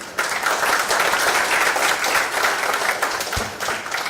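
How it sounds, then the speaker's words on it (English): Audience applause at a secondary schools conference, steady broadband clapping from a crowd sustained over about four seconds, fairly loud and close, with no talk over it. "let's give a round of applause one more time."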